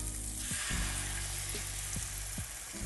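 Whisked eggs frying fast in a hot pan over turned-up heat, a loud continuous close sizzle with faint tapping touches underneath.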